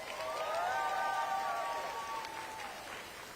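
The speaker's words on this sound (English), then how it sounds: "Let's give Victoria another round of applause." Steady applause from an audience at a ceremony celebrating 25 years of DCTAG, with cheering whistles and whoops over the clapping, fading slightly toward the end.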